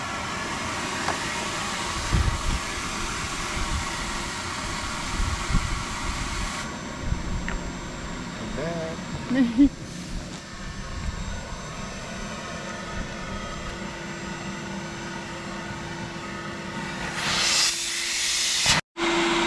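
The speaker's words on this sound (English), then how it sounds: "let's get this blower turned off and get the equipment disassembled" A blower runs steadily to clear the lines of an inground pool during closing, giving a continuous loud hiss with a rushing, airy tone. A faint tone shift comes partway through, and the clip ends with a brief dropout.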